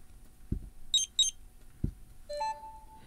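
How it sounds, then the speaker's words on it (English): Samsung Galaxy phone notification tones: a couple of short bright double chimes followed by a rising electronic beep that holds briefly, with soft thuds in between and no talking. "You got different tones for your phone and for your notification sounds."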